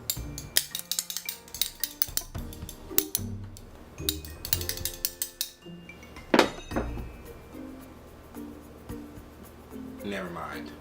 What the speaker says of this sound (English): I can play the spoons.